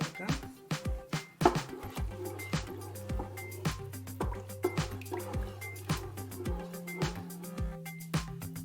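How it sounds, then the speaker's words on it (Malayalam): Milk goes into a pan of green chilli payasam with close, quiet dripping and trickling liquid sounds, punctuated by soft clinks and a low steady hum underneath. "ഇനി നമുക്ക് പാല് ചേർത്ത് കൊടുക്കാം."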